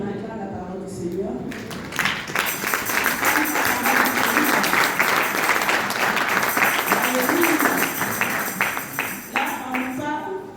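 Sustained applause and clapping from a church congregation filling the space for several seconds, loud and dense, with some voices mixed in before it fades out near the end.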